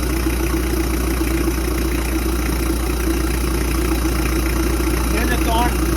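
A Toyota 1KZ-TE diesel engine idles after reassembly, giving a loud, steady, continuous low rumble close by with no change in pace.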